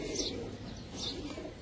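Domestic pigeons give soft, low coos in a short, faint burst over a quiet background.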